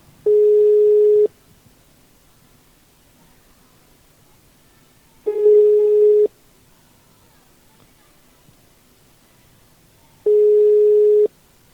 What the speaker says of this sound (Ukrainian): Є гудок.